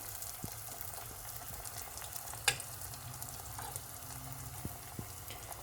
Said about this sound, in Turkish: Şimdi tek tek köftelerimizi yağla buluşturacağız